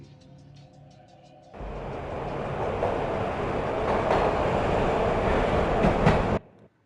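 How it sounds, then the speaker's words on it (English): A train rumbles and clatters along the tracks in the Max Payne video game, a loud steady roar starting abruptly after a quieter opening and cutting off sharply at the end. "This was my second train ride of the night."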